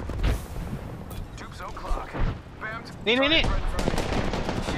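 Gunfire in Apex Legends, a video game: rapid bursts of shots crackle throughout, dense and loud, with a player's excited voice talking over the shooting.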